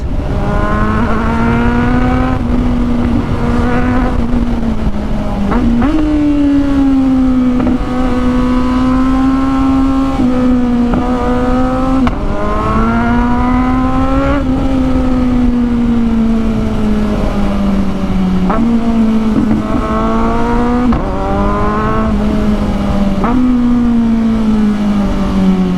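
A Kawasaki Ninja 1000SX with a loud screamer exhaust roars steadily up close on a night ride, its engine note repeatedly climbing and dropping as the throttle shifts, with a strong wind rush underneath and no talking.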